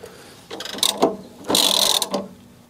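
A hand ratchet turns the engine of a VW Beetle toward top dead center. It gives two loud bursts of rapid clicking, each about half a second long, with pauses between them. No one speaks.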